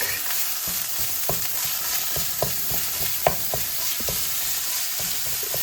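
Pork stir fry with onions sizzling steadily in a pan, with repeated clacks and scrapes of a utensil stirring and breaking up the meat, close and continuous.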